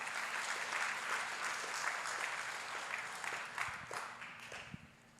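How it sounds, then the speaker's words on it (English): A church congregation applauds after a sermon line, a steady wash of clapping that fades gradually toward the end, with no speech over it. "That's a good spot to clap."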